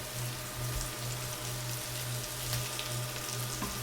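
Mushrooms and garlic frying in a pan over medium heat, a steady dense sizzle like light rain, close and even, over a faint pulsing low hum, with no talk.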